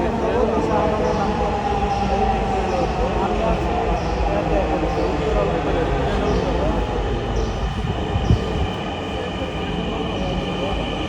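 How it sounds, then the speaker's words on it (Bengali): A metro rail train runs with a steady, close rumble and a faint wheel squeal, while muffled voices talk underneath. "আমাদের সামনে এখন মেট্রো রেল"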